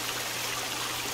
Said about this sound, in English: I love your water feature